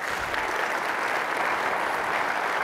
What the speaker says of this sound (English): So let's give Steve and the composition team a round of applause.